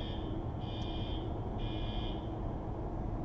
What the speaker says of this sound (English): It seems to be potentially a fire alarm.